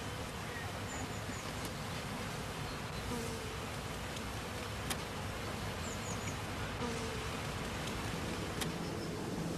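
A honeybee colony gives off a dense, continuous buzz at a beekeeping hive. The soft, steady hum carries faint scattered clicks and ticks.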